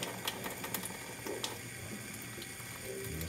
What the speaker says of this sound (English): I'm gonna hit it with this cold water.